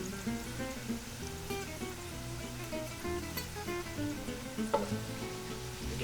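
Noodles tossed with red pepper flakes in a hot pan as the heat is cut, giving a soft steady sizzle with scraping and stirring clatter, fairly quiet with no talk.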